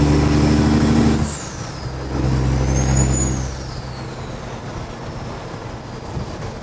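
A Kenworth W900 with loud pipes hauls an excavator on a lowbed trailer. A heavy diesel rumble drops away with a sharp air-brake hiss, surges again under throttle, then eases into a quieter idle.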